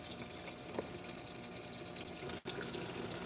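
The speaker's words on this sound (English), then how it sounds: "the fill spout is aimed forward, so that the water, like, is this way" A Whirlpool direct drive washing machine fills as water gushes from its forward-aimed fill spout into the tub, a steady close rushing hiss with a brief dropout near the end.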